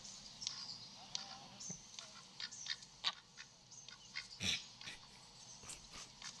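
A duck quack sound effect used as a podcast segment cue, heard as a short series of bright, nasal calls at moderate loudness with no talk over them.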